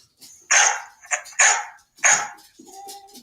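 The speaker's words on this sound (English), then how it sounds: "Someone must be home because my dogs are going crazy." Several dogs at a home bark excitedly in a few loud bursts close by, with short gaps between them and a quieter whimpering tail at the end.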